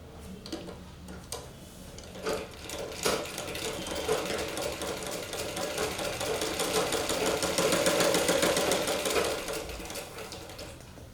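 A sewing machine double-stitches a blouse shoulder seam, its rapid rhythmic ticking running steadily and building slightly in speed, close up, after a few clunks of handling at the start.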